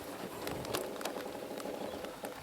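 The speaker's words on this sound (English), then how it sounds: "Trouble is it's raining," Steady rain pattering close by, a dense broadband hiss with scattered sharper drops throughout.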